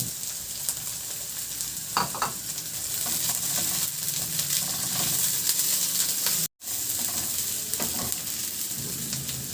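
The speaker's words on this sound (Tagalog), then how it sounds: "Magpainit na ako ng mantika at igisa ko na rin yung bawang." Garlic and onion sauté in hot oil in a pan with a loud, steady sizzle close by, broken by a few stirring scrapes and one brief drop-out, with no talking.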